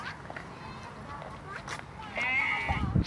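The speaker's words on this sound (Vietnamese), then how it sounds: "Con này là con cừu." A sheep bleats at the FLC Nhon Ly zoo in Quy Nhon, Vietnam, a single wavering call near the end, fairly close, while people talk nearby over soft outdoor noise.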